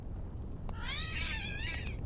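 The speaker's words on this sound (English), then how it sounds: "cat cries out nearby." A street cat cries out nearby in a single drawn-out, wavering yowl over a steady background hiss, starting faint and swelling into a loud, rising and falling wail that lasts more than a second.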